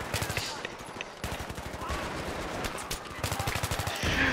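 Enemy automatic gunfire in Battlefield 3 rattles in fast, steady machine-gun bursts that run almost continuously for several seconds, loud and close, with people talking over it.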